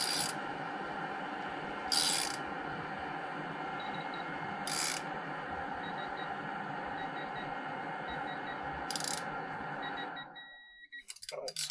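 A ratchet torque wrench tightens the injectors of a DT466E diesel engine to 10 foot-pounds: a close, faint rapid clicking runs through, broken by a few sharp louder clicks, then fades to quiet near the end.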